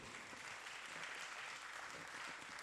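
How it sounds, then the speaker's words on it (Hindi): Audience applause at a Hindi poetry gathering (kavi sammelan) in Ahmedabad, a dense, steady wash of clapping from a crowd that holds evenly for a few seconds without a break. "जरा जोरदार तालियां बजाओ इस बेटे के लिए।"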